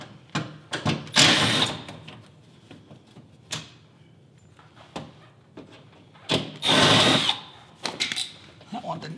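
A power driver removes T30 Torx screws from the underside of an Aston Martin fender. Two short whirring bursts stand out among quieter clicks and handling knocks.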